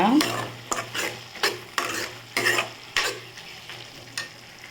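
Onions fry with salt in a pan for a greens chutney, with repeated close spatula stirs scraping the pan every half second or so over a soft sizzle.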